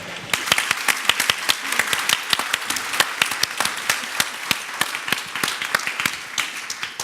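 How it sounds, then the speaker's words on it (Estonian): An audience at a panel discussion on freedom of speech applauds the interpreters, a dense burst of many hands clapping at once that holds steady for several seconds, loud and close. "me aplodeeriksime tõlkidele kõik koos"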